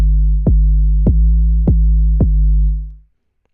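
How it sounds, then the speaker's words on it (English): Four deep trap-style 808 kick drum hits made in Reason 8, each a sharp punchy attack sliding into a long booming low tail with a light triangle-wave overtone, evenly spaced and loud, with the last one ringing out. "This creates a light overtone to the kick drum,"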